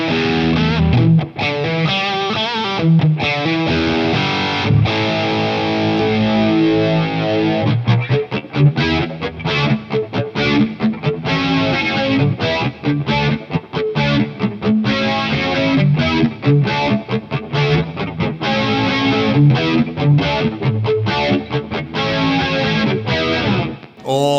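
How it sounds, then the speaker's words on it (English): Distorted electric guitar through a PastFx 80/A flanger pedal, swirling and whooshing continuously as chords and riffs play loudly throughout. "Awesome flanger tones."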